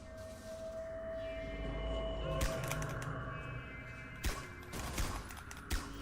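Gunfire in the Xbox 360 stealth game Velvet Assassin: a handful of sharp, distinct shots over a low rumbling ambient bed, with the first around the middle and several more toward the end, fairly quiet overall and with no speech.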